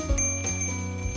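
A bell rings in the VR blacksmithing game Fantasy Smith: a couple of quick metallic strikes followed by sustained ringing tones that fade, with no talking.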